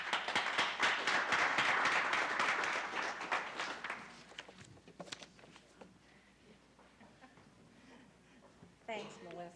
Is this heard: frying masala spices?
no